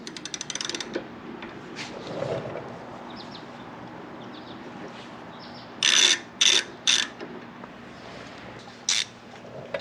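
A ratchet wrench clicks in several short loud bursts while a brake pad pin on a Harley-Davidson touring motorcycle's front brake is broken loose, over a steady garage hum.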